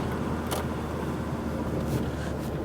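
Steady, strained low drone of a campervan engine labouring in second gear up a steep hill out of Tobermory on a Scottish island, heard from inside the vehicle with no talk.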